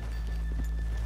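Horse hooves clip-clop softly in Red Dead Redemption 2 as the riders stop off a town's main street, a few irregular muffled steps over a steady low hum.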